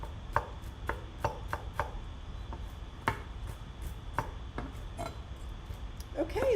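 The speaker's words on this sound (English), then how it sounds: "I'm making some chopped walnuts." Walnuts are chopped with a knife on a board in a steady series of sharp, close chops, some louder than others, against a quiet room background with a faint voice at the end.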